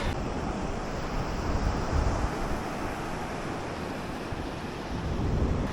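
North Sea surf washes onto a Belgian beach near Zeebrugge, a broad constant roar of waves mixed with heavy wind buffeting the microphone, with no voices.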